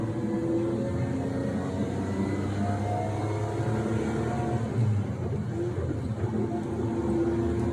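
A Lamborghini LM002, a three-tonne V12 off-roader, accelerates with a constant deep engine drone and rising harmonic tones heard from inside the cabin, loud and continuous throughout.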